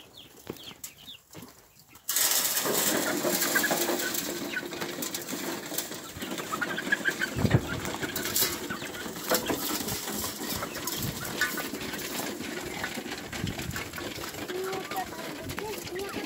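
Young chickens in a coop, soft clucks and peeps over rustling and feed noise, with a person talking quietly at times.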